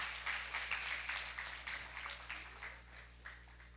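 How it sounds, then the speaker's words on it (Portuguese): Church children's event audience applauding the children, a fairly faint, steady patter of clapping that rises and tapers over several seconds. "Aplausos, gente, para eles."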